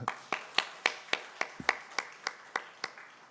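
Steady, evenly paced clapping at a Sunday afternoon church service, about a dozen claps in a regular rhythm, fairly faint and with no talking.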